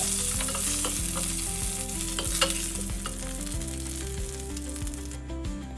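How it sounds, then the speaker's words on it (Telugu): Curry leaves sizzle and spit in hot tempering oil for a chutney, a loud steady frying hiss with faint stirring taps throughout and no voices. "ఇప్పుడు చివరిగా కొంచెం కరివేపాకు కూడా వేసుకొని ఒకసారి మిక్స్ చేసుకొని"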